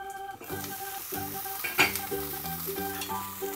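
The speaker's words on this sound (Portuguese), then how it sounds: "Eu vou fritar uma por vez porque a frigideira é pequena." A pork rack chop sizzles in a small frying pan under a lid, a steady close frying hiss with a brief louder flare midway and soft metallic stirring clinks.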